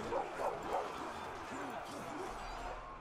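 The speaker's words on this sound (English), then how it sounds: "And now there's a mass of dogs sort of charging in while everyone's still lying on the floor." Dogs bark and yip in a Total War Arena battle, a mass of dogs charging in; several short barks and whimpers overlap near and mid-distance over a busy battle din, with a voice talking throughout.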